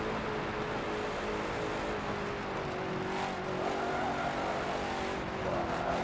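A tuned car driving in a racing video game gives a steady engine drone with gentle rises and dips in pitch as it accelerates and shifts, heard continuously at moderate volume with no voices.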